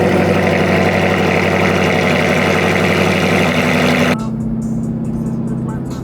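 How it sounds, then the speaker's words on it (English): A Jeep with a 5.7 engine idles steadily while warming up, a loud, continuous low rumble that drops to a lower, smoother hum for the final couple of seconds. "I'm letting the pretty much the engine warm up still."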